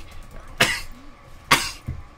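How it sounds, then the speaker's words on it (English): Two sharp, harsh coughs about a second apart, followed by a softer third, close to the mic, with no talking, during a World of Warcraft Upper Blackrock Spire dungeon run. "It's a coughing fit."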